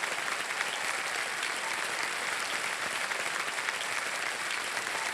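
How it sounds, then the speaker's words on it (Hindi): Studio audience applause on the KBC quiz show set, a steady dense clapping that holds at an even level throughout with no pauses and no speech over it. "तालियां बजती रहे इनके लिए।"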